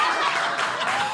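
Brief burst of audience applause at a comedy show, a steady broadband patter of clapping with faint crowd murmur and no clear talk over it.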